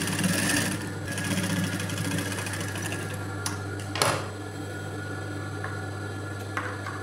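Sewing machine stitching a second line of thread piping on a blouse, a steady mechanical whir running throughout with a few sharp clicks partway through.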